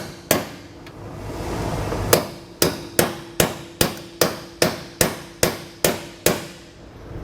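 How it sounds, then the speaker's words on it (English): A hammer strikes a socket to drive a bolt into a Dexter bronze bushing on a 2022 Grand Design Imagine trailer, a few scattered blows and then a steady run of about ten sharp metallic hits, close and loud. "we can drive the socket to push our bolt in"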